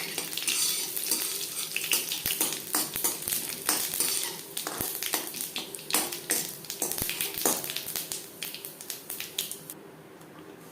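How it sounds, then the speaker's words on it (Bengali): Dried red chilli pieces, whole cumin seeds and a bay leaf fry in hot oil, crackling and popping in quick sharp bursts over a bright sizzle, with occasional utensil taps, fading quieter near the end. "জিরে শুকনো লঙ্কা তেজপাতা ভেজে নেওয়ার পর"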